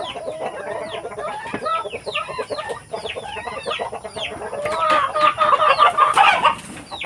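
Several chickens cluck busily with a rooster crowing among them on an egg farm in the Philippine countryside, a dense, lively farmyard chorus that swells louder toward the end.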